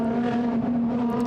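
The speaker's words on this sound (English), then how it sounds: "Just to listen to that BMW. I just love that engine note." A BMW racing car engine drones loudly and steadily at high revs past the start-finish line at Goodwood's Members' Meeting, a brief snarling burst with no voices.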